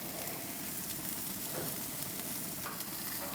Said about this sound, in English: This one's been off for a couple minutes and it's still sizzling.